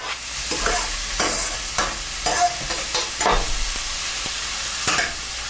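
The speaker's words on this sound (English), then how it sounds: "So now I'm going to add it to my saute pan." Onion sautéing in oil in a sauté pan, a steady close sizzle with repeated stirring scrapes and soft clanks spread through it, no talk.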